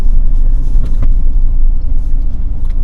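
A four-wheel-drive vehicle's engine rumbles loud and close in low range off-road, a deep steady drone with no voices.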